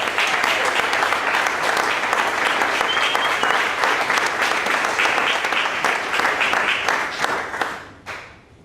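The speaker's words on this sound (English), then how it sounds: "Let's give her a applause." An audience at a company gathering gives a loud, sustained round of applause for an award winner from customer service, filling the room before fading out and ending with a few last claps.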